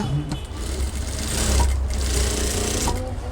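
A sewing machine double-stitches a child's school trousers, its steady, close whirring motor running under a man's speech.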